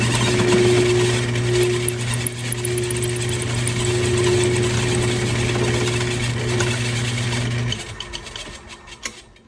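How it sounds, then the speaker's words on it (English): A machine cutter drilling through monel for piston production, a loud steady mechanical hum with sustained low tones and grinding chatter that suddenly drops off near the end, leaving quieter clicks. "It's really important not to rush when you're trying to drill through monel."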